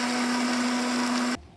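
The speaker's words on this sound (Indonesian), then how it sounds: "Kita blender hingga halus." A blender whirs at a steady high pitch, grinding toasted spices and water into a smooth paste for Minangkabau gulai, before switching off abruptly near the end, leaving near silence.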